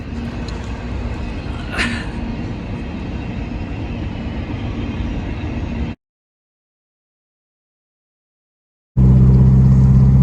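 An S14 drift car with BC coilovers, fuel cell and muffler delete rumbles steadily as it drives around, engine noise continuous and fairly loud, with a brief higher whine, then a gap of silence before a louder, closer burst of engine sound.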